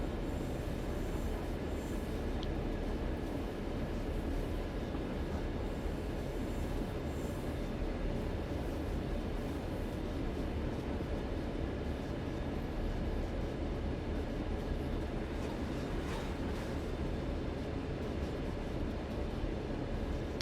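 A coal train hauled by Clinchfield F7 locomotives in a train simulator game rumbles steadily and heavily, with a dense, continuous engine and wheel roar and a faint squeal at times, and no talking.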